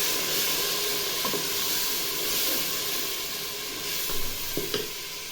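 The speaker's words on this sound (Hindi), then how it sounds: "और मैं इसमें थोड़ा सा पानी शामिल करूँगी ताकि नीचे ना लगे इसमें।" Chopped spices with turmeric and salt sizzle and fry steadily in a pan after a little water is added for a mixed vegetable curry, a continuous close hiss with faint stirring scrapes.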